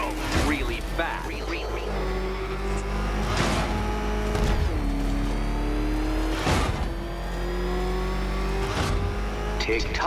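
The Batmobile in Batman Arkham Knight roars and revs steadily with rising engine pitch, broken by several loud whooshing surges, while a voice talks over the engine.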